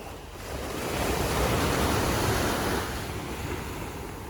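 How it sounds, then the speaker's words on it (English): Ocean waves wash onto the shore at a secluded beach resort in Manggis, Bali, a broad steady surf roar swelling and easing, heard alone with no voices. "we wake up to the gentle rhythm of the waves"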